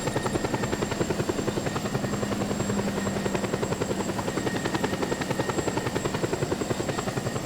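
A helicopter's rotor beats in a steady, rapid chop with a whining engine hum underneath, loud and continuous throughout, in the video game Just Cause 2.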